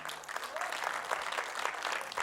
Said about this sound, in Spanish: Den un fuerte aplauso.